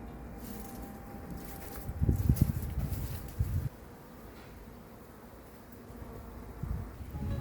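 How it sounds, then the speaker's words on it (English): Bees from a hive built inside a bedroom wall make a steady, faint buzzing drone, with a few louder rustling bumps from handling near the entrance and no talking. "there's a few bees on the outside"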